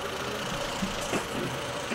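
A Mazda truck engine idles with a misfire, a rough, uneven low rumble with irregular knocks, steady and close with no talk over it.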